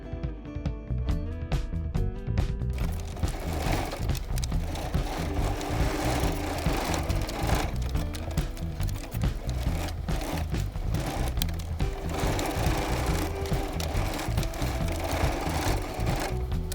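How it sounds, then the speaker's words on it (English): A sewing machine top-stitches pieces of a ruffled fabric face mask along the fold, running in a close, steady rapid whir of needle strokes with brief pauses and restarts. "I take all of my pieces to the machine and I top stitch them down along the fold"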